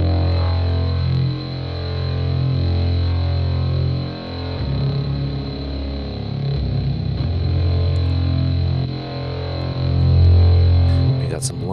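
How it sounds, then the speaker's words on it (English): A dark synthesized horror ambience run through EQ and a distortion filter: heavy droning low tones with a steady high whine, shifting and swelling over about twelve seconds, loud and continuous with no speech. "I'll add another EQ, so it's basically just like distortion filter."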